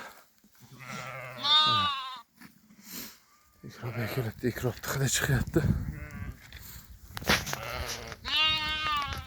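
Sheep and lambs bleat in short, wavering calls while being herded, one burst early on and another near the end, mixed with someone talking and moving around.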